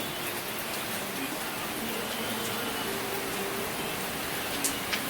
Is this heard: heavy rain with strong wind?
yes